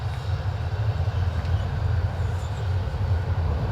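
Aircraft back taxiing down the runway at Dublin Airport on a wet, windy day, heard as a steady, fairly loud low rumbling drone that holds constant throughout with no talk.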